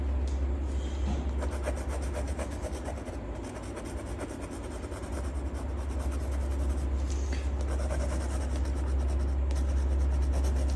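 A light pencil shades a drawing of tree branches with fast, close, continuous scratchy strokes on paper, a rhythmic rasping texture over a steady low background hum, with no talking.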